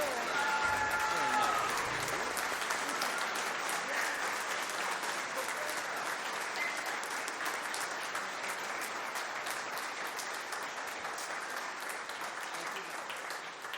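An audience at a high school spring band concert applauds for Mr. Milnes in a long, dense, even wash of clapping that slowly tapers, with faint voices briefly under it at the start.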